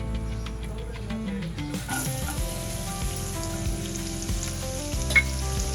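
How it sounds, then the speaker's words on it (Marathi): Garlic dropped into three spoons of hot oil in a pan, a steady close sizzle that swells as it goes in, with a continuous crackling fry and a brief clink near the end, no talking. "पॅनमध्ये 3 चमचे तेल घेतलं आहे. तेलावर आपण लसूण घालूया"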